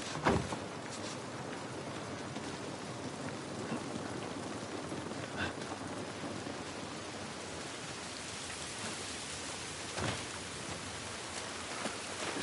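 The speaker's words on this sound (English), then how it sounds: "This rain ain't gonna do us any good." Steady rain falls outdoors as an even, dense hiss of drops on surfaces, with a few louder splats and taps standing out now and then over about twelve seconds.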